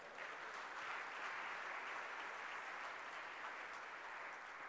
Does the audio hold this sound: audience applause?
yes